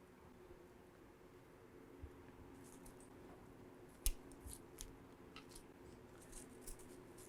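Pruning shears trim a bonsai tree with a series of faint, crisp snips spaced irregularly, one sharper cut standing out, over quiet background hiss and no speech.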